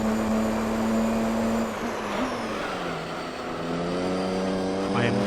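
A Mercedes CLK touring race car in Gran Turismo 3, its engine holding a steady loud drone with a slight dip and recovery in pitch, as if cruising rather than pushing hard, with a voice talking over it.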